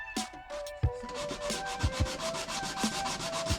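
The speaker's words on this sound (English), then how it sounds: "Actually, my preferential way to do this is wet sanding." Wet sanding of hardened epoxy clay sculpture, a close, steady scratchy rubbing in repeated strokes with occasional soft knocks, no talking.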